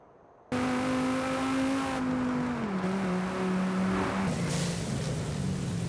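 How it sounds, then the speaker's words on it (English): Dodge Viper ACR with an 8-litre V10 in Forza Horizon 5, its engine kicking in abruptly and holding a loud, steady drone whose pitch steps down twice, like gear changes, with no talk over it. "It's a Viper. The ACR, I think. Aye, 8-litre V10."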